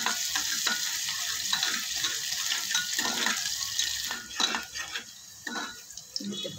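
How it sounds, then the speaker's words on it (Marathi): Onion sautéing in oil in a pan, a steady close sizzle broken by frequent scraping and clinking stir strokes, with a faint voice heard now and then. "आता कांदा आपण चांगला लाल होईपर्यंत ह्यामध्ये परतून"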